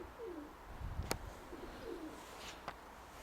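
Pigeons coo softly in low, rolling calls, a couple of separate coos with a faint flutter and light clicks around them, quiet and close in a calm setting.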